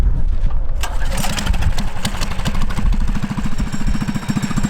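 Small engine on a homemade wheeled machine started with a bit of choke: loud, close, rough chugging that settles into a fast irregular putter.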